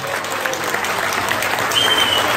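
A loud, dense round of applause from an anniversary celebration crowd in Agualva de Cima, Poceirão, Palmela, many hands clapping steadily at close range with no one talking over it.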